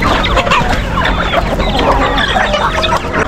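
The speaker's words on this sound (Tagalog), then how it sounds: "Sobrang dami ng manok na mga kalab." Many chickens clucking together at close range, a loud, busy chorus of overlapping clucks and squawks with no talking.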